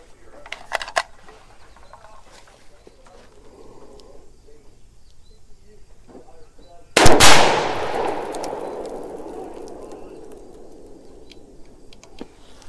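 A single 6mm ARC rifle shot at an outdoor shooting range arrives as one loud, sharp crack midway through and trails off in a long, fading echo. Before it there are only quiet ambient clicks.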